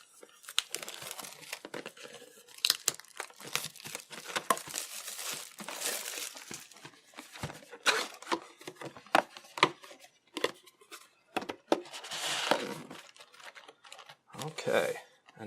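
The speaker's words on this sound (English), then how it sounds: "I cut into it and hope not to cut into any of the packs" A knife slices and tears into the cardboard and plastic wrap of a Magic: The Gathering Eldritch Moon booster box, giving close, irregular bursts of crinkling, scraping and ripping with brief pauses between strokes.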